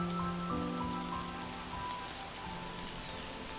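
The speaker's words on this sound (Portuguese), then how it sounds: "Começou a chover." Steady rain falls in an even, continuous hiss, moderately loud and close, with some faint tonal background sounds and no speech.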